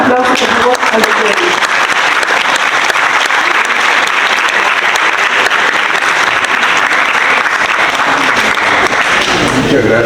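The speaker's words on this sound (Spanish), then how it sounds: "Un aplauso, por favor, al doctor." Sustained audience applause greeting a doctor at a book presentation, thick continuous clapping from a large crowd that holds steady and loud for about ten seconds.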